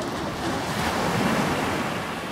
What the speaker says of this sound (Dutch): De zee is rustig.